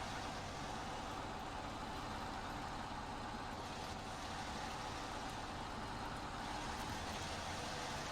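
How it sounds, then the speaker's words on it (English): Log-hauling truck in the SnowRunner video game, its engine giving a faint, steady low drone with broadband rumble that holds constant throughout. "Here's the truck that I set up to haul logs"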